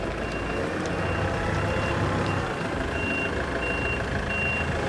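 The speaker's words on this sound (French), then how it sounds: "on les descend avec le Fenwick pour les mettre en place" A forklift sounds regular reversing beeps while unloading 7-metre sandwich panels from a delivery truck at a depot roof-demolition site, the beeps repeating steadily over dense, loud engine and site noise.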